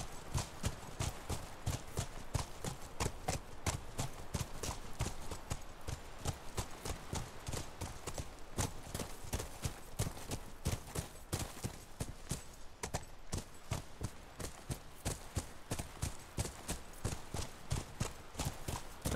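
Steady clip-clop of horse hooves as a rider travels at a walking pace in The Last of Us, a continuous even rhythm of close, moderately quiet hoofbeats lasting throughout with no talking.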